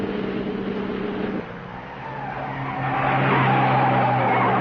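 A car is driven fast around a race course lined with hay bales, its tires squealing and skidding through a curve as the engine roars and builds, loud and continuous with no talk.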